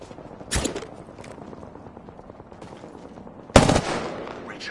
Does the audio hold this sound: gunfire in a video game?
yes